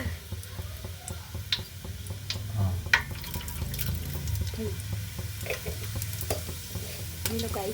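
Cumin seeds sizzle in hot oil in a pan, a close, steady frying hiss with scattered small pops and spoon scrapes, continuous throughout.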